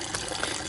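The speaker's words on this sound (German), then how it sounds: "jetzt muss man die Flasche nur noch mit Wasser füllen" A bottle fills with water at an outdoor well in winter, making a brief, steady rush of splashing, gurgling noise close by, with no voices.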